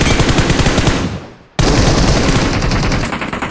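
Automatic gunfire from the PUBG Mobile video game comes in loud, dense, rapid bursts. The firing fades briefly before a sharp crack starts another sustained volley, heard up close with no talking.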